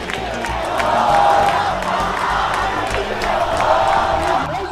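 A large protest crowd in Jordan chants slogans against Israel, a loud, dense roar of many voices swelling and rising in waves across the scene.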